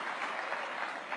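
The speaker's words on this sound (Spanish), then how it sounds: "Él merece un aplauso" Applause in Venezuela's National Assembly during an address by the attorney general, a dense sustained clapping from many hands, even and moderately loud without a break.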